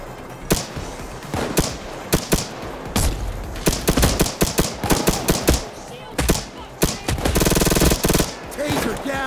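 Rapid bursts of automatic gunfire mixed with heavy blasts and explosions in the video game Payday 2, loud and close, with voices breaking in between the shots.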